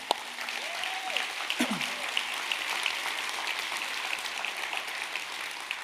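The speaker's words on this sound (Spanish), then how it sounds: "vamos a dar un aplauso" Church congregation gives a round of applause for members who attended an event, a soft, continuous patter of clapping heard from a moderate distance, with a brief voice and a faint whoop near the start.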